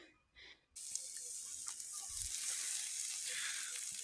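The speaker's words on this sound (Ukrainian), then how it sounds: "Перепілочки смажаться." Quails fry in a pan with a steady, close hiss of sizzling fat that starts abruptly and continues evenly to the end, with a few faint pops and a brief low knock partway through.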